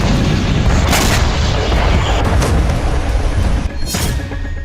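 Artillery fire from the Sumy area aimed toward Kursk sounds as heavy booming bursts in war news footage, loud and rumbling, with a couple of sharper blasts standing out over continuous low thunder.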